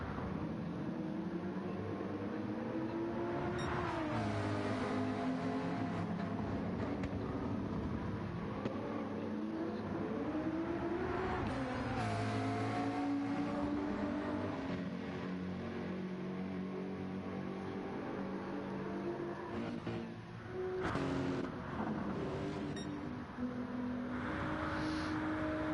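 GTR race car engines roar continuously in a 24-hour Le Mans sim-racing event, loud and sustained with rising and falling revs as cars accelerate and shift, several engines overlapping throughout.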